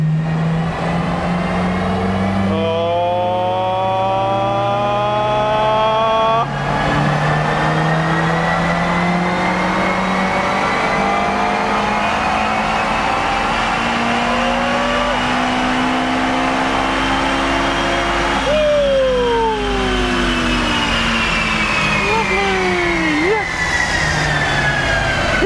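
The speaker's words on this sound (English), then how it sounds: "My mighty Ferrari made a glorious noise and managed not to explode" A Ferrari exotic car engine revs hard in fourth gear on a dyno pull, a loud sustained roar climbing steadily in pitch over many seconds, with a voice talking over it.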